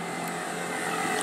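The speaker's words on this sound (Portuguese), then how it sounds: "Só está passando uma moto aqui," A motorcycle passes by outside, its engine a steady, broad roar that swells slightly toward the end of the short stretch, with no talking over it.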